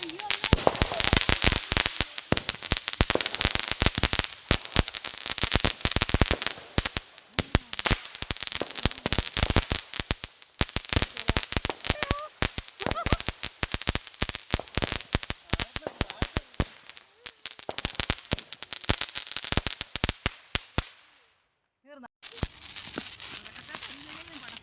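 Firecrackers and fireworks burst during a Vishu festival celebration at night, a dense, relentless string of loud cracks and pops running for about twenty seconds, then a brief pause before the crackling starts again.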